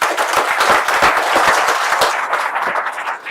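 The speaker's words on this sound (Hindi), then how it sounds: "तो एक बार खुल के तालियां बजा दीजिए" Enthusiastic clapping from an audience at a presentation event, loud and close, with many individual sharp claps audible in a fast irregular patter that continues for the whole span and eases slightly at the end.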